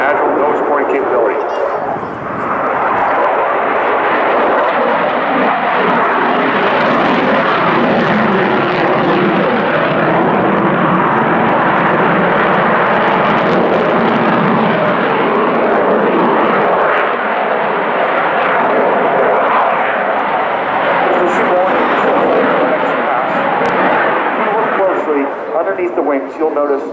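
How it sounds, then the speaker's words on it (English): US Navy F/A-18 Super Hornet jet in a solo flying display at an airshow, a loud continuous engine roar that swells and shifts as the fighter maneuvers, filling the whole stretch with no break. "showcasing the Super Hornet's lethal and agile nose pointing capability"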